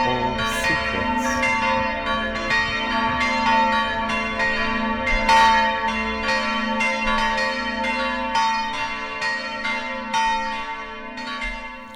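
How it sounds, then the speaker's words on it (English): A church bell tolls slowly with long ringing overtones, sustained and resonant, fairly loud and alone without voices. "Even the tolling of a sad bell recalls to make us pause for a life or event in our memory."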